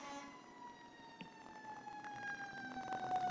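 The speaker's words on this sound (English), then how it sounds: "You guys can probably hear these sirens." Distant sirens wail with slowly sliding pitch, faint and layered, several vehicles overlapping under a low background hum.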